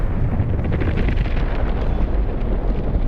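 In the Delta Force video game, a deep, rumbling explosion roars loud and sustained with dense low-end crackle, and no voices are heard.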